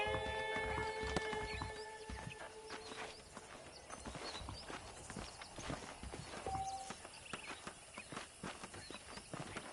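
Horse hooves clip-clop at a steady walking pace under a rider in Red Dead Redemption, quiet and close, with faint ambient tones and scattered small sounds around them.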